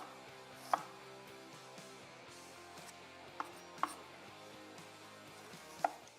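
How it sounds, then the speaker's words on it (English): Knife slicing a red onion into half rings on a cutting board, four sparse, crisp chops spread irregularly over soft background music, faint and close. "let's slice up the red onion. This is important. Slice it into half rings like this."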